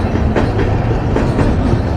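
A train rumbles loudly past nearby, with steady rhythmic clacking of wheels over the rails.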